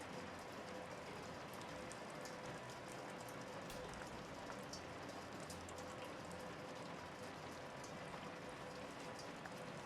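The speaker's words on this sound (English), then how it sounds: "Is it just raining in here now?" Steady, hissing rainfall pours down indoors inside a building in the video game Shadows Over Loathing, an even, dense patter lasting throughout with no voices.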